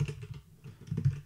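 A mkdir command is typed on a computer keyboard as a quick run of close, crisp key clicks, heard alone without talk.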